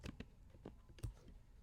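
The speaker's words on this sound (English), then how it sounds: "Let me do normal typing so you can see it again." Ordinary typing on a computer keyboard, a few separate key clicks spread irregularly over a short stretch, close and fairly quiet, with no one talking.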